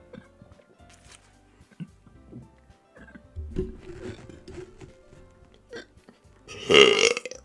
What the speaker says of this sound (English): Burps again, sorry.